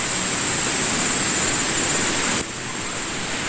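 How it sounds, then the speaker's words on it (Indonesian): Spring water trickles and babbles along a small stream beside a river, a steady close broadband rush that drops slightly in level partway through and continues evenly to the end. "ini ada mata air yang mengalir gemericik gitu ya"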